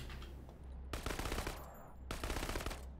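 Automatic gunfire in the video game Krankenheit, two sharp rapid bursts of machine-gun fire, each about half a second long, loud and close with no talk.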